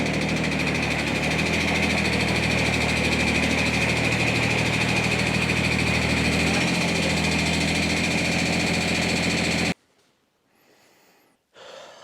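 A Kubota tractor engine idles steadily and loudly at close range for about ten seconds, then cuts off abruptly, leaving near-silence with a faint brief noise at the end.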